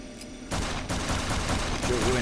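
Video game gunfire, a sustained burst of rapid shots that kicks in abruptly and keeps going loud and dense, with a voice talking over it.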